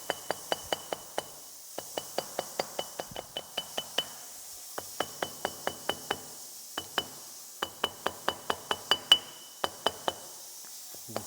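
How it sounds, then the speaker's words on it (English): Gasket paper is tapped out over a Danfoss OMT 400 hydraulic wheel motor on a Case 1840, a rapid series of sharp, close metallic taps in quick bursts of several strikes separated by short pauses. "now I'm going to do what's called tapping the gasket out"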